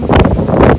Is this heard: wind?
yes